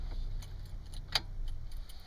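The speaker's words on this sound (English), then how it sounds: "Let me turn the car off." Keys jangle in short metallic bursts as a Honda Accord is switched off, with a low idle rumble underneath and one sharper clink near the middle; no one speaks.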